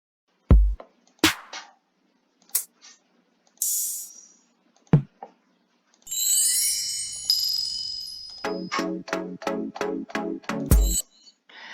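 Eight instrument sounds from the Beatmaker beat-making app played one after another: sharp kick thumps, clicks, a bright chime, a shimmering synth swell, then a fast run of repeated tonal hits, each alone with silence between.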